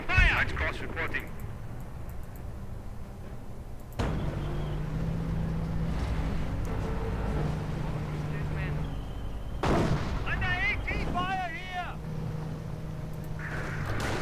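Gunfire and artillery rumble steadily through a Company of Heroes match, a continuous battle din with distant booms and sharper bursts, overlaid by game voice callouts and commentary talk throughout.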